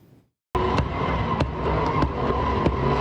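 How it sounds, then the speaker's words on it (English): Sharp, loud bangs from car exhaust pipes as cars spin donuts in a parking lot in Wethersfield, Connecticut, several irregular cracks standing out over a continuous roaring engine din. "loud bangs coming from car exhaust pipes as they spin out in a parking lot"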